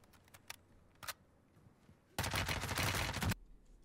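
A few faint, scattered shots early on, then a loud, rapid burst of automatic fire lasting about a second in Warzone 2 gameplay.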